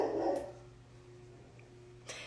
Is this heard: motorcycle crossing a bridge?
no